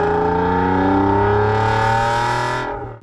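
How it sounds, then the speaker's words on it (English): Alfa Romeo 156 Sportwagon 2.5 V6 revving hard, a loud, rising multi-tone engine howl that climbs steadily for over two seconds, then drops off sharply as the throttle is released. "One of the best sounding engines I think ever made"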